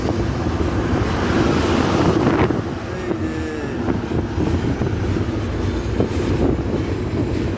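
A train rumbles steadily at a slow pace over the new railway bridge across the Jamuna River, with continuous rolling rail noise and wind buffeting the microphone.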